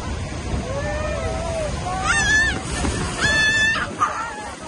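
Rough, splashing water in stormy weather in Canada, with wind-blown surf surging steadily close by and brief high, voice-like tones rising over the roar midway.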